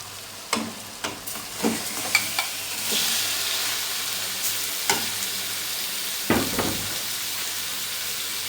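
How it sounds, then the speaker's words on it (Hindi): Chicken frying for a potato chicken curry is stirred in a pan, giving a steady sizzle with a burst of hissing and scattered spoon knocks and scrapes close by. "एक से 2 मिनट फ्राई करने के बाद इसमें हम चिकन डाल देंगे।"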